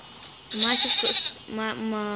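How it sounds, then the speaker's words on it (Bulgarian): Two nasal, wavering goat bleats in a video game, in quick succession, the first higher and longer, the second lower, both fairly loud and close. "Ето, намерихме козата."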